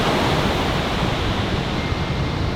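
Ocean surf on a Southern California beach at sunset with the tide coming in, a loud, steady rush of breaking waves and wind with no distinct individual crashes.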